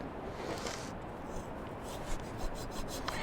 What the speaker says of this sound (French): Un petit bout là, à enlever à la scie.